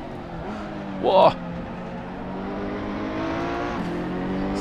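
Race cars on an Assetto Corsa online race track, a steady droning engine whine with shifting pitch running throughout, a brief louder burst near the start as a driver exclaims, a McLaren ahead and a Lamborghini behind.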